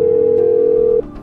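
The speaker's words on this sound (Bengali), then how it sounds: "শুভকে তো আমাকে এক্ষুনি ফোন করে জানাতে হবে।" A steady telephone tone holds for about a second, then cuts off abruptly as a call is placed, loud and close with no voices.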